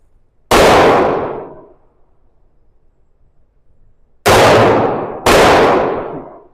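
Three loud, close pistol shots from a G45 or SIG P365 X during shooting practice, one alone, then a long pause and two more in quick succession, each with a ringing decay.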